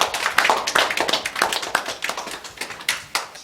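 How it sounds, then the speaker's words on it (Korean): A church congregation at an Easter Sunday service clapping in a loose, uneven rhythm, individual claps audible and moderately close, fairly sparse and tapering off. "우리에게 은혜 주신 하나님께 영광의 박수 올려드리겠습니다"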